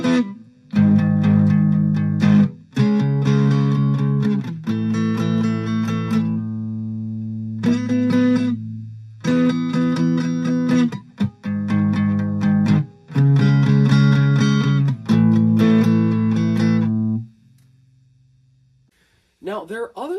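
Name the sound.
electric guitar through Blues Driver pedal, creamy transparent overdrive, neck pickup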